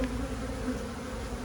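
Honeybees hum in a steady, faint buzzing swarm at an opened hive with brood frames, a continuous low drone with no voices.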